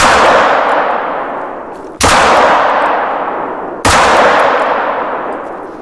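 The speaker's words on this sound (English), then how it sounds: "I hit the reindeer with the pistol, man" Three loud pistol shots in The Hunter: Call of the Wild while hunting a reindeer, each a sharp crack with a long ringing decay, spaced about two seconds apart, no voices.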